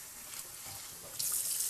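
Water running from a kitchen sink tap as fermented veggies are rinsed, a soft steady hiss that suddenly grows louder and brighter near the end.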